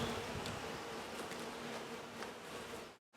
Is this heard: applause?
no